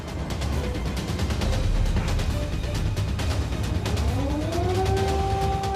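An air raid siren wails over loud, dense background noise in Ukraine, its rising tone emerging toward the end as a sustained sweeping wail.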